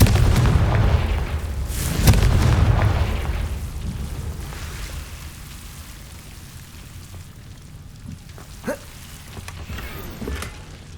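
The Confringo blasting spell erupts in Hogwarts Legacy as a heavy booming explosion with a second thump close behind, trailing into a long rumbling decay with scattered crackles and small pops as it dies away.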